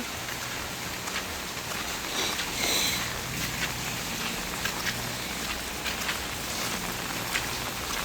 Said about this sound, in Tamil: மழை வெள்ளம் எல்லா இடத்தையும் இருக்குது